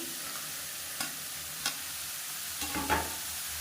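Chopped ridge gourd sautés in a pan for a kadayal, giving a soft, steady sizzle broken by a few light spatula scrapes and knocks against the pan, close by and without talk.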